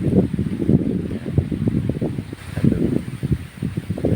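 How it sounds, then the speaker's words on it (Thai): Strong wind blowing outdoors near midday, gusty rustling and buffeting that rises and falls in uneven pulses, fairly loud and close. "ส่วนด้านบนก็ ถือว่าลมแรงนะครับ"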